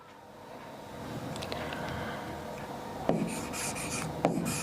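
A pen writes examples by hand on paper, with close, soft scratching strokes and a couple of sharper taps as words are finished.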